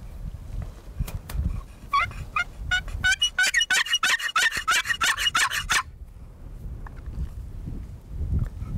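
A loud, rapid wild turkey gobble rattles out in a burst of harsh, stacked notes, answering a call, framed by low rumbling background noise before and after.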